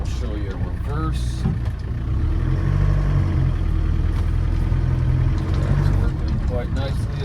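A 1984 Land Rover 110 with a 300Tdi diesel engine reverses, its low engine rumble and drivetrain hum rising as it moves, with someone talking over it now and then.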